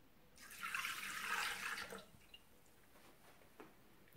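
Milk poured into a Thermomix jug while pizza swirl dough is prepared, a smooth liquid pour of roughly a second and a half, fairly close, followed by quiet with a light knock at the end.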